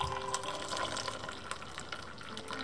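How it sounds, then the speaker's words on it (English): Turmeric milk pours steadily onto honey in a cup, a faint, continuous close trickle with light splashing throughout. "So now I'm going to pour the turmeric milk"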